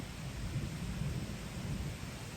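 Steady rain pours down in a continuous wash of noise, with low rumbling swells of thunder rolling underneath throughout.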